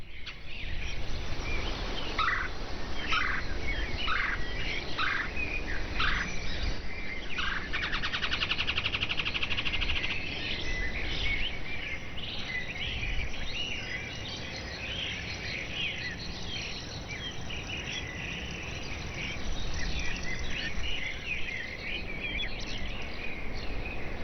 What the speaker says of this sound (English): red-bellied woodpeckers at Canaveral Marshes near Orlando, Florida